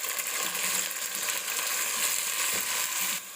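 Washed chicken pieces go into a hot pot of oil with cumin, setting off a steady, close sizzle and frying hiss that runs continuously before dropping off at the end.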